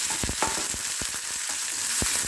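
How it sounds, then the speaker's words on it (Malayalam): Green chilli, ginger and curry leaves frying in a pan while pickle is made, giving a steady close sizzle with a few soft stirring scrapes and no talk. "അപ്പോൾ പച്ചമുളക്, ഇഞ്ചി, കറിവേപ്പില ഇതെല്ലാം നല്ലപോലെ പൊരിഞ്ഞിട്ടുണ്ട്."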